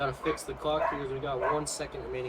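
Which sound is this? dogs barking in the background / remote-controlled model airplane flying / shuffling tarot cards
dogs barking in the background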